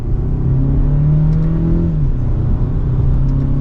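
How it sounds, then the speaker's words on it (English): A 2023 BMW 228i Gran Coupe M Sport accelerating gently on a back road, heard from inside as a smooth, steady engine drone that rises in pitch and then settles at cruising speed. "And a mild acceleration"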